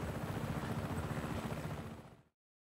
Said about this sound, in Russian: Можешь взять вертолет, фратре.